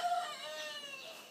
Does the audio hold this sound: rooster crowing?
yes